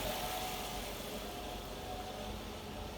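A Mercedes CLK55 AMG convertible idles with a very subdued exhaust: a steady, low, even engine hum that holds at a constant level with no revving.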